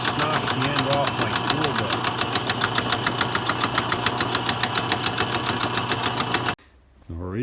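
A lathe cuts the steel cutters of a homemade food shredder, giving a steady loud machining drone with a regular rapid chatter from the teeth hitting the tool, stopping abruptly near the end.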